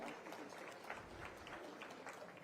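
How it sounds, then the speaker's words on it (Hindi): A crowd claps steadily throughout at a state-level cooperative conference attended by the chief minister, with dense, even applause filling the hall. "सभी के लिए करतल ध्वनि से आप लोग तालियां बजाते रहें"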